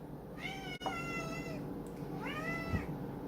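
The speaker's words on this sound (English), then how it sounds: "And that's my cat." A cat meows twice, drawn-out rising and falling calls with a pause between, close by over a low steady background hum.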